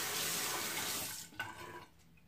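Running tap water rinses a Gillette Fusion Hydra Gel shaving gel bottle, a steady close-up splashing rush that cuts off abruptly into a few faint drips.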